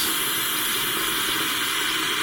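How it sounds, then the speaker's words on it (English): Steady, continuous hiss of air being pushed out of a Camplux water heater, loud and unbroken from start to end with no other sounds. "Air just getting pumped out of the water heater."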